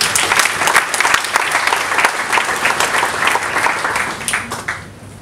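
A seated audience at a formal lecture breaks into a round of applause, dense clapping holding steady for several seconds before trailing off at the end.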